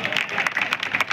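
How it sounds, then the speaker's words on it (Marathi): A crowd at a political rally for a Kalyan Lok Sabha candidate breaks into applause, with quick, close claps rattling throughout a short burst, voices mixed faintly underneath. "जोरदार टाळ्या वाजवा"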